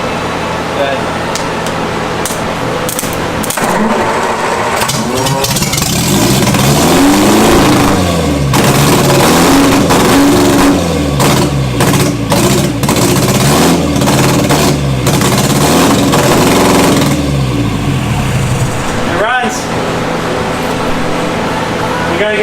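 An MGA sports car that sat for 38 years sputters and revs on hand-fed carburetors, its rough engine note surging and fading up close over about twenty seconds, with voices talking beneath the noise.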